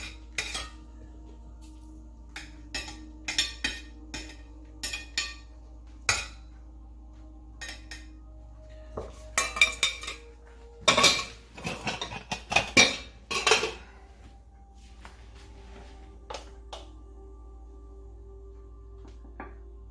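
Chicken piccata is plated in a quiet kitchen, with scattered clinks and scrapes of cutlery on plates and a pan, and a busier cluster of dish clatter in the middle.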